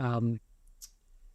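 A faint, sharp mouse click sounds once on a minimize button in dialogue-editing software, following a short burst of speech in an otherwise quiet room.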